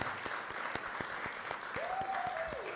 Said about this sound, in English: How about a nice round of applause for our candidates, Rafael Salamanca Jr. and Vanessa L. Gibson.